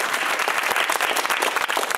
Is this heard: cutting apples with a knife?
no